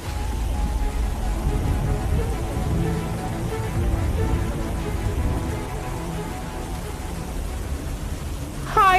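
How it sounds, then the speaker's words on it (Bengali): Steady rain hisses evenly throughout a cartoon scene, a dense, continuous wash of falling water with no voices, ending in a brief louder burst. "অনেকদিন পর আমরা সবাই একটু বৃষ্টি পেয়েছি"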